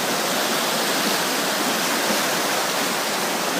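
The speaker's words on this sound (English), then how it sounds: "What it is the rocks and trees and debris crashing around down there, washing down river." A flood-swollen river washes rocks, trees and debris downstream, a loud, unbroken roaring rush close by, with no voices.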